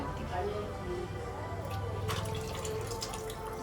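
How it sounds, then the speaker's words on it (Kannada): Water pours into a pot of mushroom biryani, a steady splashing, gurgling stream close by that runs throughout, with a voice talking over it. "ಫುಲ್ಲು ನೀರು ಹಾಕಿದ್ದೀನಿ ಇವಾಗ"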